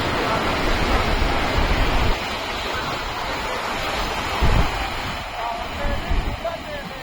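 Sea waves wash onto the beach at Cox's Bazar as a steady, broad roar of surf, with louder swells breaking around the middle and near the end.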